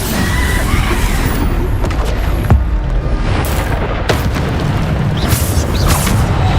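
The Bombarda explosion spell goes off in Hogwarts Legacy amid combat, giving a loud, continuous booming blast with several sharp cracks and thuds layered through a dense rumble.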